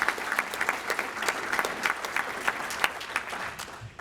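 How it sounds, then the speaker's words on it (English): Clapping from an audience at a Rotary scholars luncheon, many hands applauding together at moderate loudness, with some sharp individual claps standing out from the steady patter. "Give Mary Kay a big round of applause."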